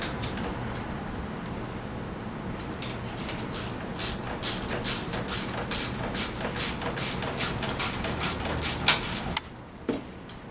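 A hand ratchet clicks in quick, repeated bursts as it tightens bolts on a Tao Tao 90 dirt bike during assembly, fairly faint and close, with no other sounds over it.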